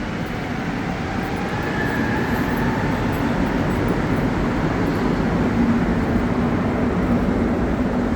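A Montreal Metro AZUR train rolls at Montmorency station while switching tracks, giving a steady, loud rumble of wheels and running gear that holds throughout with no break and no voices.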